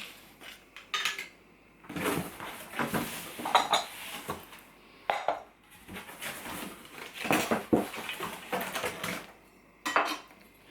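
Wooden spoons handled and knocked together, giving a series of short clattering clacks and rattles in irregular bursts with quiet gaps between, fairly close and clear, no talking.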